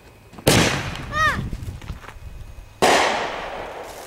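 Fireworks burst over a town at night: two sharp, loud blasts, the first followed by a rising whistling crackle, with people chatting quietly between them.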